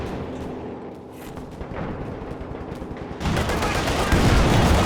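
Infantry support gun barrages rain down in a Company of Heroes 2 match, a dense rumble of overlapping blasts that swells sharply louder partway through and keeps pounding without pause.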